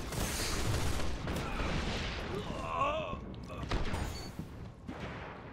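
Pump shotgun blasts in the PvP shooter Destiny, several sharp booming shots with short tails spread across a noisy game mix, with a voice talking over the action.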